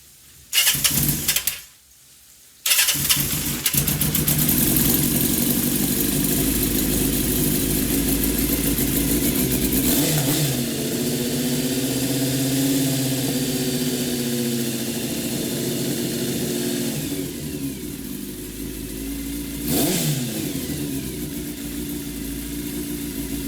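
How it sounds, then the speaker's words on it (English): A 1984 Kawasaki GPz750 motorcycle engine idles close by in a steady mid-pitched rumble, briefly cutting out near the start before settling into a continuous idle with small rises in revs. "now we got to pull that idle back up. That is way too low now."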